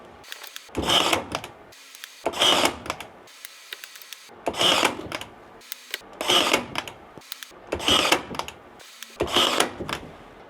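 A ProCraft PEH20 cordless stapler, run on a 2 Ah battery, drives nails in six evenly spaced loud mechanical bursts about every one and a half seconds, close by, with no talking.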